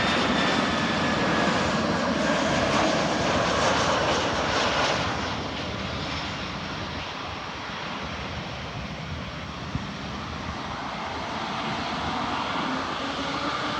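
An Air China Airbus A319 jet comes in to land, its engines giving a loud, steady broadband roar that swells early and then holds at a slightly lower, sustained level.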